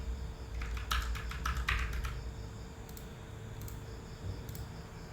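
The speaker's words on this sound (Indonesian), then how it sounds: "kalian bisa gunakan keyboard juga, menggunakan arah panah keyboard ya, seperti ini" Arrow keys on a computer keyboard pressed while moving through a Google Docs document: a short burst of quick, faint clicks, then a few isolated taps over steady low room hiss.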